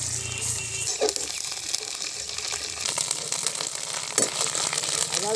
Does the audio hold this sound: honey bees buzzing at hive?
no